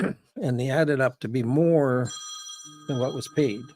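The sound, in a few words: phone ringing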